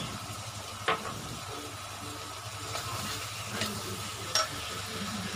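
Garlic paste fries in a pan at home, a low steady sizzle with a few sharp clicks of a utensil touching the pan, quiet and close with no talk.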